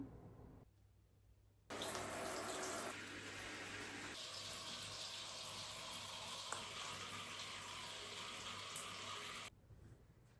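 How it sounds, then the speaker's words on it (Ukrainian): Water runs steadily while hair is washed, a dense rushing spray that starts abruptly, continues for several seconds, then cuts off, heard close with no talking. "Зараз піду мити голову"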